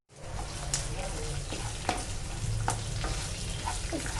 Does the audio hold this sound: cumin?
yes